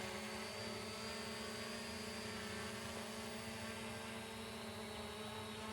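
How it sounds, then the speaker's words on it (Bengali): A CZ25 Max camera drone hovers and climbs in windy outdoor air, its propellers giving a steady, unbroken high-pitched whine with a low buzzing hum beneath, constant and close throughout with no talk. "এই ড্রোনটা দেখেন বাতাসের মধ্যে বেশ স্টেবল উঠতেছে।"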